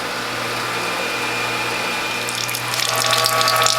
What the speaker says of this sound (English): wash your cloths with cold water to wash off the pulp